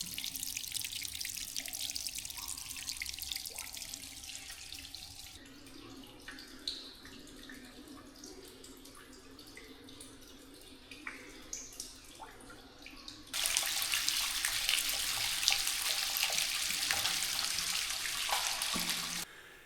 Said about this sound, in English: now it runs down a concrete pipe to meet the Bower Brook